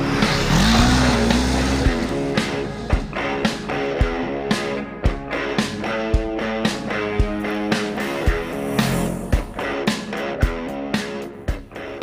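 A 2016 Honda CB500X crossover motorcycle is ridden with a steady engine drone that rises and falls through shifts, punctuated by sharp regular clicks, moderately loud and close.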